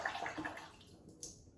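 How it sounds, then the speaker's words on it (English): A safety razor swished and rinsed in water, a brief splashing and sloshing close by that fades out with a small drip at the end. "So if I just do it in the water"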